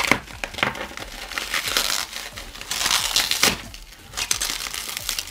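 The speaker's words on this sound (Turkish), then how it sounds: "Şöyle havalı poşete sarmışlar." Bubble wrap around an iWown Fit i6 Pro smart band is crinkled and crushed in steady, close crackling bursts, with no talking.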